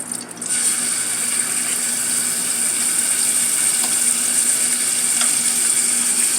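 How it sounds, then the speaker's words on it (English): Chicken sizzling in a skillet, a steady, bright hiss of frying that starts abruptly and stays loud and even throughout, with faint occasional clicks and no voices. "Nice sizzling chicken that I've added to the skillet."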